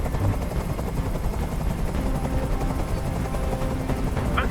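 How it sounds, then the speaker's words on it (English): Helicopter hovering in the video game Detroit: Become Human, a dense, steady rotor roar that fills the scene continuously at close range, with faint gunfire-like crackle mixed in. "Tell that helicopter to get out of here!"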